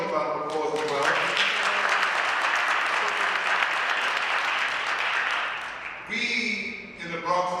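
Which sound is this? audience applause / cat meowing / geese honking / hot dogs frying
audience applause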